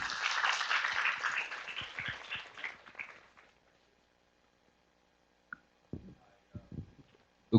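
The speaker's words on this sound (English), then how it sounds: "Please welcome, with our applause." An audience claps to welcome a speaker at a closing plenary, a brief burst of applause that fades out after a few seconds into near silence, followed by scattered soft clicks and bumps.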